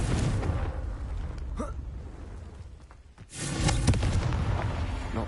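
A Confringo blasting spell goes off in Hogwarts Legacy as a loud, close explosive burst with a deep rumbling boom. It drops to a lull, then swells into a second broad blast that dies away with a noisy tail.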